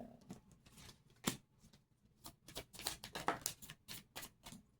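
Tarot cards being shuffled by hand during a reading, a quiet run of soft riffling and snapping bursts with a few sharper clicks, close and alone with no talking.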